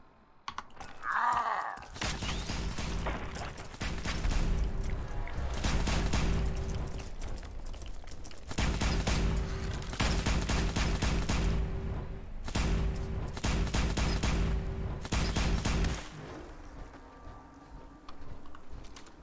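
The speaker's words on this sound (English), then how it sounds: "I think I've got a scattered laser rifle." Scattered laser rifle bursts in Fallout 4, firing in several rapid clusters of crackling, stuttering shots with brief pauses between volleys, loud and close, no talking over them.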